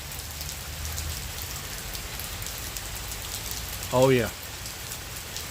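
Tropical storm rain falls in an even, gentle hiss of pattering drops, and a voice briefly speaks near the end over the steady downpour.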